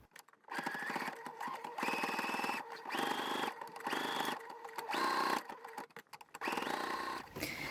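Sewing machine stitching a cuff onto a sweatshirt sleeve from the inside, running in repeated short bursts of whirring with brief stops between them as the fabric is turned.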